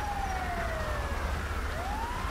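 An ambulance siren wails in an LSPDFR police video game, a loud sweeping tone that falls and then rises again over a steady engine-like rumble.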